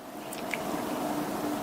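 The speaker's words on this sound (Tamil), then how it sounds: "நான் இதுல 1 டீஸ்பூன் எண்ணெய் சேர்க்கிறேன்." A teaspoon of oil poured over potatoes frying in a pan for a Tamil side dish, giving a steady soft sizzle and wet squishing close up, continuous and even throughout, with no voices.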